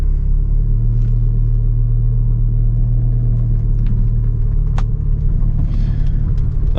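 An Abarth 695 Edizione Maserati small car drives in normal mode, its engine a steady low rumble that fills the cabin throughout, close and constant with no voices.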